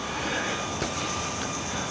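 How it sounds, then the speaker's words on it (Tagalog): A DJI Neo drone flies and follows along outdoors, its steady high-pitched propeller whine holding at a constant level through the clip, fairly close, with a faint brief whoosh as it passes. "sumusunod yung drone"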